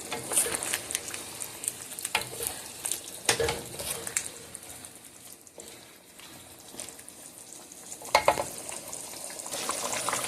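Chicken karahi fries in a pan with a steady broadband sizzle, and a utensil stirs the meat with periodic scraping strokes that stand out from the frying. No one speaks.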